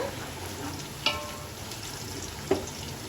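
Onions sauté in a pan toward golden brown for a mutton biryani, a low steady sizzle broken by two distinct clinks of a spoon against the pan, close and moderately quiet.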